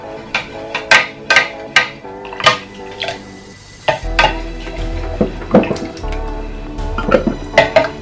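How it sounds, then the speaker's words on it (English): A spoon stirs a warm lemon, cumin and honey drink in a cup, with sharp repeated clinks against the sides in an uneven rhythm, close and clear. "I'll just add 1 teaspoon of honey and I'll mix everything together"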